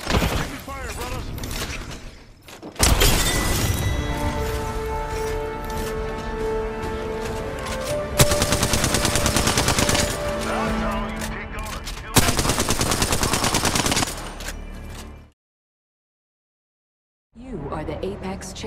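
Gunfire in the video game Apex Legends, loud rapid bursts of automatic fire with mechanical clatter and reload clicks, sustained over several long volleys before a sudden drop to silence, then firing resumes.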